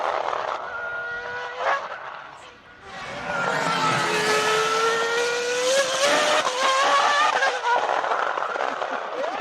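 A BMW FW26 Formula 1 car with a screaming V10 engine races past, its high revving note rising and sweeping loudly through gear changes over several seconds, with a brief dip before the pass.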